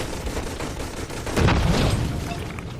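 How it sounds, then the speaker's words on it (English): Mark II machine gun fire in the Toy Soldiers video game: a dense, sustained rattle of shots with booming low end, swelling louder about halfway through and holding steady, with no talking. "this guy's gonna be upgraded to a Mark II machine gun"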